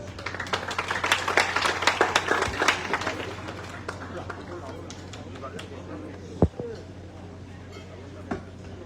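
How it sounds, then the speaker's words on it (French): Applause from an audience at a centenary ceremony of a Christian Brothers school, a dense patter of many hands that is loud at first and fades over several seconds, with a few sharper knocks near the end. "Je vous demande de l'applaudir"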